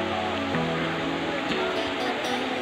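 A waterfall at Pantai Pelang beach in Trenggalek rushes in a steady, loud broadband roar throughout, with voices talking over it.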